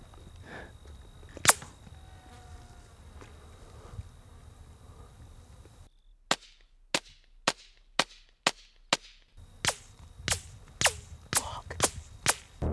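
Subsonic .22 bullets fired downrange toward armored shooters at a range: after a quiet stretch with one early snap, a series of about a dozen sharp, dry cracks follows in a fairly even rhythm, crisp and close with no talking.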